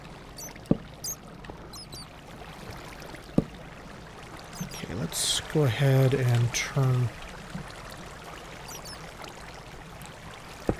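Water runs in the Technomancer video game as a brief, pouring gush lasting about two seconds in the middle, with someone talking over the quiet stretches before and after.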